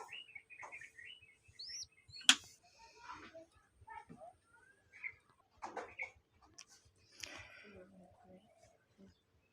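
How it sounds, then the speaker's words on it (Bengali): Domestic pet pigeons kept at home chirp and call in faint, scattered bursts against a quiet background, with soft ticking sounds between the calls. "কবুতর শুধু গৃহপালিত পাখি না"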